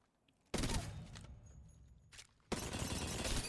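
Close hip-fire shots from a 30-30 rifle in a video game: two loud, sharp bursts, the first decaying into a short ring-out and the second sustained to the end, with a quieter pause between.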